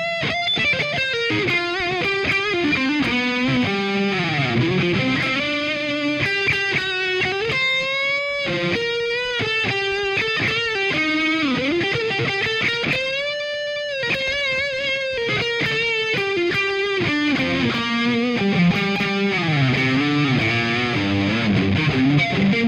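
Distorted electric guitar playing from a Jackson JS32 7Q Dinky seven-string through a Blackstar HT-1RH tube amp, gain set at half, with continuous chugging riffs and sustained chords, loud and steady throughout.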